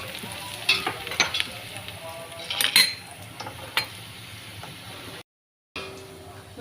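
Whole spices including bay leaf, cinnamon, cloves, peppercorns, fennel and cardamom tossed into fried onions in a hot pan, steady close sizzling with scattered clinks of a spoon stirring, briefly cutting out before resuming.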